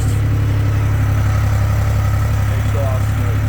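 Honda CB1000R motorcycle engine idling steadily in neutral at a car meet, a loud, close, continuous low rumble with a throbbing exhaust pulse throughout.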